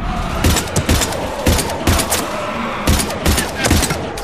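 Heavy gunfire in the Mass Effect 3 video game on PS3, a loud, close fusillade of sharp shots in irregular bursts with overlapping reports and thuds throughout.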